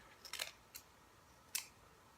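Scissors snip ribbon for a gift bow, giving a few crisp, faint, close cuts: a quick double snip, a single one, then a sharper final snip against a quiet background.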